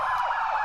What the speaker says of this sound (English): Can someone turn off that siren?